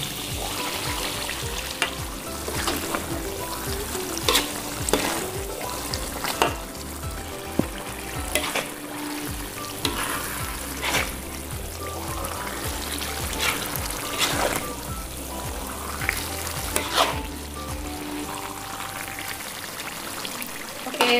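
Sambal cakalang, a spicy chili and skipjack tuna relish, sizzles in oil in a pan as it is stirred, with a steady crackling fry and repeated scraping strokes of the spoon across the bottom, close up and without talk.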